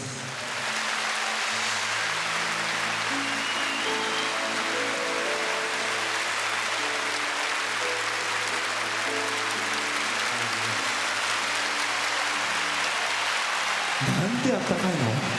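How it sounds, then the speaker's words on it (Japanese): Fans cheer and applaud at a concert, a dense, steady roar of clapping with sustained musical tones beneath, loud and continuous. Voices are heard among the crowd. "ファンの声援と拍手"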